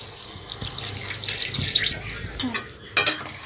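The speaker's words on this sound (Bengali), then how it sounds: "এবার জল দিয়ে দেব।" Water poured into a beaten egg mixture with chilli for a Bengali chilli egg dish, a short trickling splash with faint clinks and a brief louder burst near the end, close and fairly quiet.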